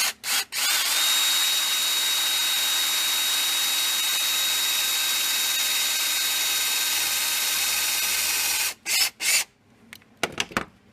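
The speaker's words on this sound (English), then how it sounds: "It's got a drill and a long bit." A power drill with a long bit whines continuously at high speed for several seconds drilling out an old crankcase seal on a 1995 Scrambler 400 two-stroke, stops briefly, revs twice more, then cuts off with a few clicks.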